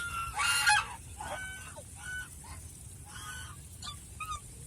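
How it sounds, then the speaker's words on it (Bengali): A white goose honks loudly several times in quick succession, then gives a few fainter, scattered honks against quiet outdoor background. "এই যে আরেকটা হাঁস আছে, সাদা হাঁস"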